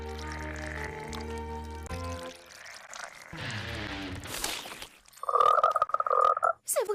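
A cartoon frog croaks in an animated children's film, with a music bed under the scene followed by a loud, close croaking burst near the end.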